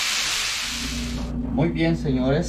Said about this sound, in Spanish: y que chille el sartén